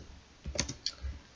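A few quiet computer keyboard keystrokes during a programming session, scattered taps with short pauses between them, near and soft with no talking.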